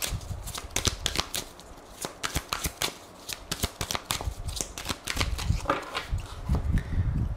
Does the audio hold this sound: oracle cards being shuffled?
yes